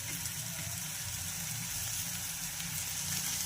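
Pea curry frying in a pan with black pepper and coriander, a soft, steady sizzle with a continuous hiss and faint bubbling, even in level throughout.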